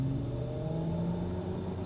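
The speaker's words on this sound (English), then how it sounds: "It's got a fantastic fake engine sound. That sounds absolutely glorious." Mercedes EQS electric car accelerating with its artificial engine sound, a steady synthetic hum with rising tonal layers, continuous and fairly close, with no talking.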